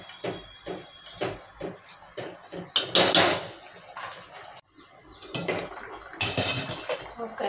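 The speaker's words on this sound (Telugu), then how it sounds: "రవ్వ వేసేసుకొని ఉండలు లేకుండా కలుపుకోవాలండి" Semolina is stirred briskly into a boiling pot of sambar in a home kitchen, with rapid metallic scraping and clinking of a spoon against the pot in quick bursts, close and fairly loud, with no talk.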